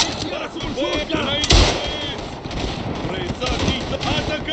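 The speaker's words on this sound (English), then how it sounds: "This is a Japanese rifle." A Japanese Arisaka rifle and other guns fire in the World War I shooter Tannenberg, with repeated loud, sharp cracks over a dense, continuous din of battle and one heavy close shot near the middle.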